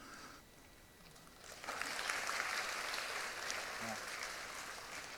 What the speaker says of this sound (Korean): 소유자님들 박수 주셔서 대단히 감사하고요